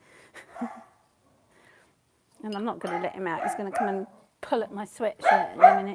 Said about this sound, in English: sorry about my dog. He's gone absolutely crazy this morning.